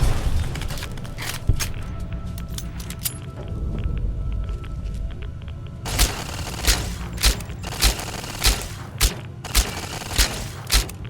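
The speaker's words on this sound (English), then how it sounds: "Firing weapon." A weapon fires in Fallout: New Vegas, first as scattered sharp cracks, then as a regular run of about eight heavy thumping shots evenly spaced in the latter half, close and punchy over a low rumble.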